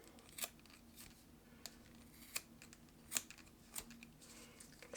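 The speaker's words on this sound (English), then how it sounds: "go ahead and cut these strands here." Scissors snip through strands of crochet yarn with a handful of sharp, separate cuts, close and quiet, spaced irregularly over a soft background.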